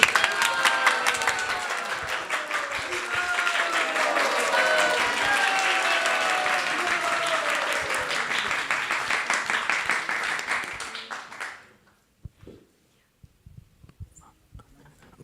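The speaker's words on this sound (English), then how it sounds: "round of applause for Yogadish Prabhu" An audience at a devotional gathering gives a sustained round of applause, dense steady clapping for about eleven seconds before it abruptly dies away into near silence with a few stray sounds.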